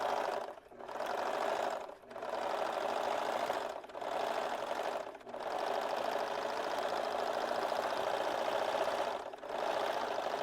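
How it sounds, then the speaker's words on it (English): A serger sews and finishes the pocket edges of a strapless mini dress, running in a steady, close mechanical whir with several short stops between passes and no voices. "just serge off and finish off all the pocket edges"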